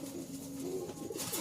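Domestic pigeons at a Dhaka-area seller's loft coo in low, soft, rolling calls, close and fairly quiet, with a faint higher sound near the end.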